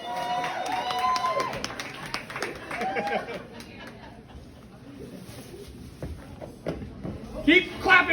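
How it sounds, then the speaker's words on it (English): A comedy club audience claps and cheers for a comedian taking the stage, a brief burst of applause and crowd chatter under a loud host's voice talking over it. "Keep clapping for him!"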